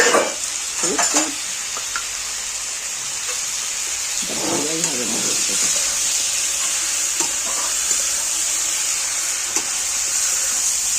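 Poppy seed paste and green chili paste fry in a hot pan with a loud, steady hiss and sizzle, broken by a few stirring scrapes, close up and without talk.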